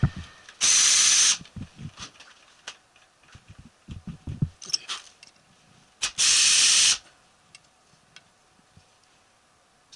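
A power drill driving a bit that is too large for the hole, on a DIY CNC plasma table build, gives two short, loud bursts of high whirring, with quieter handling clatter in between.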